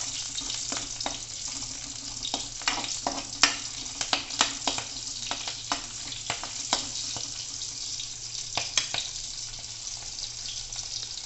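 Slit green chillies frying in hot oil in a home kitchen for a karela and banana gravy, giving a steady bright sizzle dotted with sharp crackles and pops throughout, with no talking.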